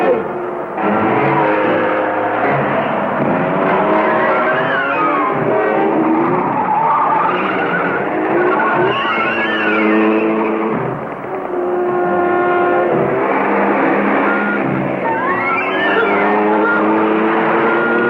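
A car driving fast in a 1966 film, its loud engine roaring steadily while tires squeal and skid throughout, with a raised voice briefly shouting over the noise.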